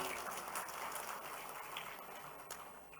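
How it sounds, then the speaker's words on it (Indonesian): Crowd clapping at a Halal Bihalal gathering at Griya Agung, a soft, distant, continuous patter of many hands with a few sharper taps, fading gradually over a few seconds. "Tepuk tangan"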